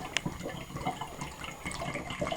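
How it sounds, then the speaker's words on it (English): White grape juice pours into a demijohn with a continuous gurgling, splashing stream, close and moderately loud, with small bubbling pops throughout. "the white grape juice going in now"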